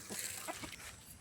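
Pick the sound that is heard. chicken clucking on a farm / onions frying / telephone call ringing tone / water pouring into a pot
chicken clucking on a farm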